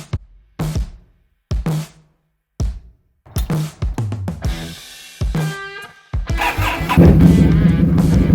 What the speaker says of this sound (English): we are going to start the engine and get the oil cycling